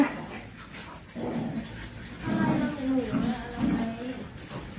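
A dog gives a few soft yips and whimpers in a quiet room, faint and intermittent, with a person speaking to it in between.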